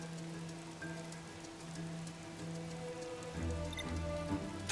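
Steady rain patters down in the Bee Movie Game on the Wii console, a continuous even hiss of drops with faint tonal game sounds running underneath.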